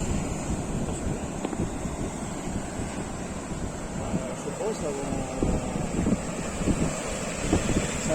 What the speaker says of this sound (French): Regarde les vagues.